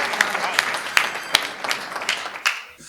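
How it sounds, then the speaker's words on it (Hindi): An audience at a Hindi poetry recital (kavi sammelan) claps to welcome poet Yogita Chauhan, a short burst of close, fairly loud applause with a few sharper individual claps that fades out at the end. "योगिता चौहान को बहुत जोरदार तालियों से उसकी प्रेम कविताओं के लिए आमंत्रित करें"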